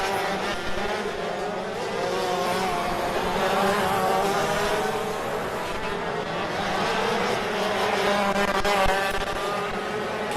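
ROK Shifter Masters racing karts at a winter tour race, buzzing two-stroke engines droning continuously at moderate distance, rising and falling slightly as they pass, with no talk.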